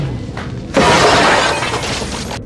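Glass windows shatter as bodies are thrown through them in a violent scene from the original Robocop film, a loud burst of breaking glass following a softer lead-in, with crashing debris carrying on for almost two seconds.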